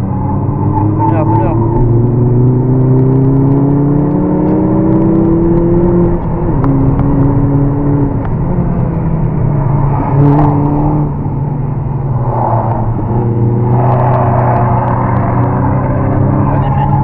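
A Mini Cooper S R56 engine drones loudly and steadily on the Abbeville race circuit, its pitch rising through the gears and dropping on shifts, with a coach talking over it throughout.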